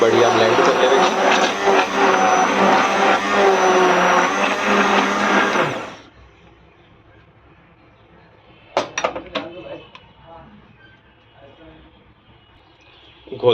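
An electric blender grinds Kashmiri red chillies and cloves for khandra kadhi, a loud, close whirring roar lasting about six seconds before cutting off, followed by quiet and a few clattering knocks as the jar is handled.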